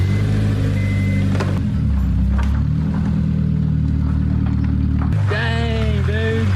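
A Honda S2000 being rebuilt after a wreck starts up with a low, steady engine rumble, then revs sharply near the end as it pulls away. No one talks over it.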